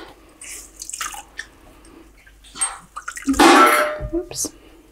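Hot botanical dye bath liquid drips and splashes as it is wrung out of fabric, a bright watery burst building in the middle among scattered drips, with people talking throughout.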